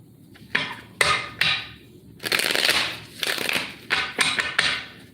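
Cards are shuffled close up in several quick riffling and sliding bursts, with short pauses between them and no talking.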